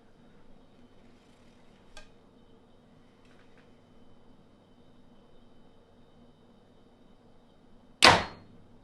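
A single sharp thwack of a compound bow releasing an arrow, loud and sudden after a quiet stretch, with a faint click earlier.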